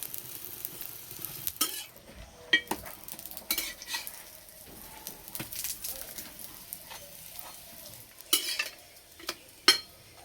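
Aloo paratha fries in mustard oil in a pan, a soft, steady sizzle broken by sharp clinks and scrapes of a utensil against the pan at irregular intervals.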